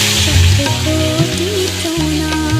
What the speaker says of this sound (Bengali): এবার পটলগুলো সব দিয়ে দেবো।